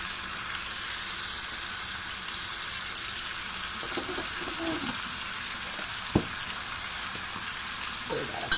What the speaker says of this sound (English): Stir that up a little.